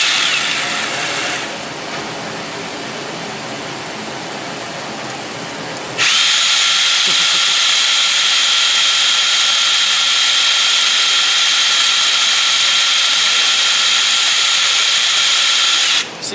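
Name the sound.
power drill turning over a model steam engine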